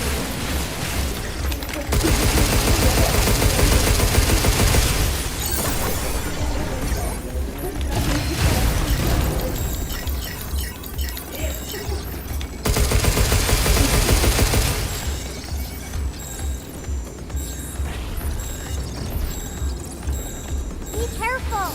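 Dense, sustained gunfire in the video game Pragmata, loud bursts with heavy rapid shooting that drops briefly and then returns, mixed with game effects and voices speaking over the action.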